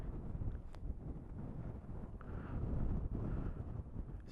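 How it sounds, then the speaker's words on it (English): Strong gusty wind buffeting the microphone at Buttertubs Pass, a broad low roar that swells and eases, close and loud with no voices. "So windy."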